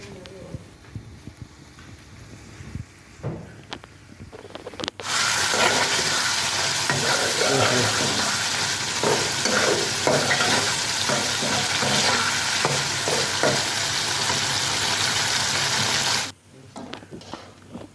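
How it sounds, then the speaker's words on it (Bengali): Prawns frying with sponge gourd in a pan, a bright steady sizzle that starts abruptly and holds loud for about eleven seconds with occasional stirring scrapes, then cuts off into quieter room noise. "এখানে ধুন্দুল দিয়ে চিংড়ি মাছ রান্না করা হচ্ছে"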